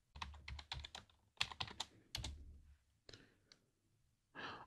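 Typing a password on a computer keyboard, a close run of quick key clacks in uneven bursts with short pauses and a final heavier keystroke, quiet and without talk.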